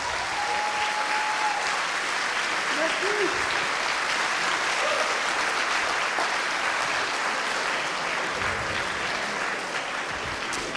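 Audience at a school awards ceremony applauds a student prize winner again, dense continuous clapping at steady volume throughout, with a few faint voices mixed in.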